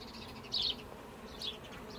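Honey bees in a crowded hive hum as a faint, steady drone, with two brief louder buzzes as single bees pass close by.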